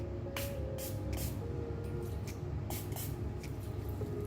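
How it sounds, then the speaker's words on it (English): Several quick bursts of makeup setting spray misted onto a damp makeup sponge, short hissy puffs over a steady low background hum. "You can spray your damp beauty blender with any kind of makeup setting spray"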